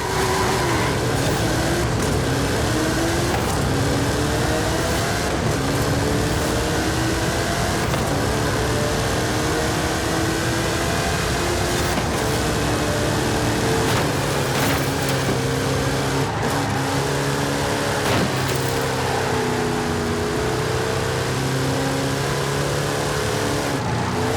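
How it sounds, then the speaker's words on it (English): Hot Wheels cars drag racing in the video game Forza Horizon 5: loud, continuous engine roar with rising and falling revs through repeated gear shifts and occasional tire squeal. "How about you and I test them in a drag race?"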